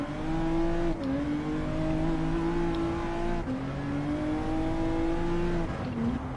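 Race cars screaming along at high speed in Gran Turismo 7, a loud steady engine whine that shifts pitch with each gear change, heard alone and close.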